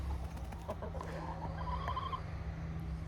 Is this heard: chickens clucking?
yes